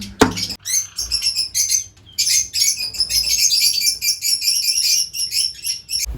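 A colony of pet lovebirds squawks and chirps excitedly in a loud, dense chorus of overlapping shrill calls, with a sharp knock near the start and a brief lull before the chattering resumes.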